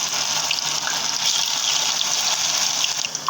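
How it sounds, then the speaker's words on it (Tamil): Raw plantain slices dropped into hot oil, a continuous loud sizzling hiss of frying that holds steady throughout with faint crackles. "வாழைக்காய் வந்து போட்டு எடுத்துடலாங்க போடும்போது கொஞ்சம் பார்த்து கொடுங்க எண்ணெய் மேலே தெரிக்காமல்"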